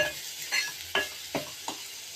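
Onions and dried silver fish fry in a pan under a soft continuous sizzle, broken by about four sharp scraping stirs at a steady pace, close by.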